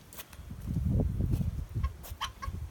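A rooster kept with hens on a small farm gives nearby clucking calls, with a low rumbling vocalization followed by a few short, sharper cries, trying to rejoin its hens.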